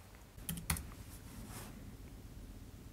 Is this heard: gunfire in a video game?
no